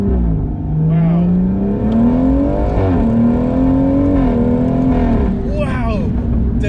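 A track-spec BMW M140i making around 600 bhp, heard from inside at the circuit: a loud engine drone rising and falling with throttle, quick gear changes breaking the pitch, close to the listener, with someone talking over it.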